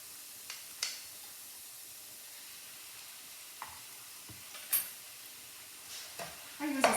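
Minced pork and onion in a frying pan give off a faint hiss, with sporadic scrapes and clicks of a spatula stirring, growing busier and louder toward the end; nobody speaks.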